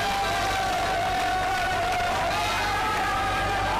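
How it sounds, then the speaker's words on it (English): A crowd at a United Cricket Bash 2017 cricket match cheers and applauds in a steady wash of noise heard from a distance, with a faint tonal hum running beneath it. "a big round of applause for all these people"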